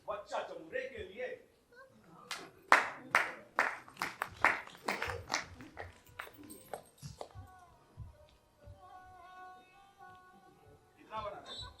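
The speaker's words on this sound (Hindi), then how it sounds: "एक बार जोर से ताली बच्चा जमुरे के लिए।" Audience applause at an outdoor street theatre show, a burst of hand clapping rising over a few seconds amid a talking performer, then fading while voices continue.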